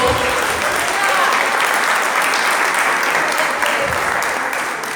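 A church congregation claps together during a Pentecost sermon, a dense sustained round of applause filling the room, with some voices faintly audible beneath it as it begins to fade at the end.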